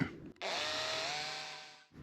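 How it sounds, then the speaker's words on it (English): A power drill bores out a small hole in a fitting for a sailboat pulley on an old abandoned boat, a steady loud whine lasting under two seconds after a brief start, then stopping. "So I'm just gonna drill it out."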